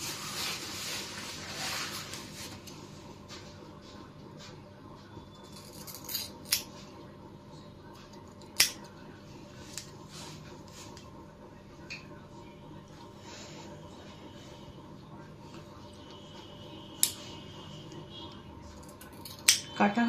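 Scissors snipping long layered hair in a step-by-step long-locks haircut: scattered soft metallic snips and a few sharper clicks spread across the stretch, quiet and close, under a steady room hum with someone talking intermittently.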